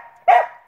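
A single sharp dog bark, loud and close, standing alone in an otherwise quiet moment.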